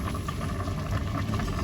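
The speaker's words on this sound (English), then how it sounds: "Now it's boiling." Pot of turkey mince dog food simmering on a stove, a steady low bubbling rumble throughout with a brief clink near the end.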